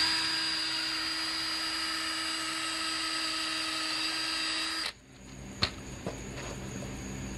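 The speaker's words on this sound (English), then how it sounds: "So first I'm drilling through." A power drill bores a hole through a cart frame, whining steadily and loudly for about five seconds before stopping, followed by a few faint knocks and clicks.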